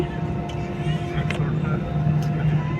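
Steady low drone and engine hum inside a passenger airplane on a flight from Bengaluru, continuous and even throughout, with faint muffled voices in the cabin.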